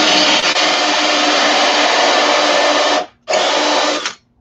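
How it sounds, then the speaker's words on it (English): A power drill fitted with a hole saw bores through a clamped board, whining loudly and steadily for about three seconds, pausing briefly, then running again for a second before stopping. "Now I'm going to drill through this back side of the hole"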